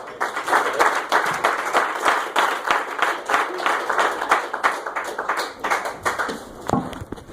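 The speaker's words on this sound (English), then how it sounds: "Give it up for a Bacon Cabina, everybody. Clap it up." A comedy-club audience claps and applauds for a comedian, a dense, steady burst of hand claps that holds for several seconds before thinning out.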